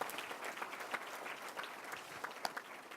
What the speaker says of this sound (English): Give them both another round of applause.